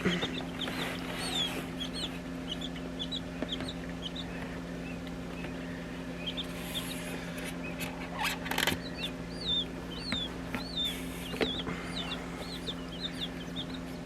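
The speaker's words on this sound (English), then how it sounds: "I hear peeps from the other side" Newly hatched baby chicks peep in repeated high chirps over a steady low hum, with occasional rustling and a few louder bursts.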